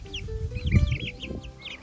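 Young chicks and chickens cluck and peep in a new enclosure, a run of short bright calls repeating close by with soft low rustling beneath, no voices.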